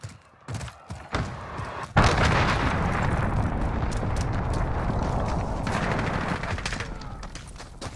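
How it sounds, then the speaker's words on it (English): Cruise missile strike in Call of Duty Modern Warfare multiplayer team deathmatch: scattered sharp gunshots give way to a loud booming impact, followed by a sustained roaring rumble of explosions and debris that slowly fades. "Allied cruise missile launched."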